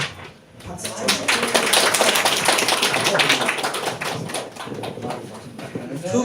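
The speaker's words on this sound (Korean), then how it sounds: "박수 쳐주세요." A church congregation at a Christmas service bursts into sustained applause, many hands clapping loudly together for several seconds before it slowly thins out.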